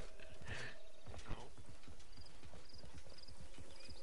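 Horse mount in the game Realm Royale, its hooves clip-clopping in a steady rapid galloping rhythm close by, with a brief neigh near the start and faint game sounds underneath.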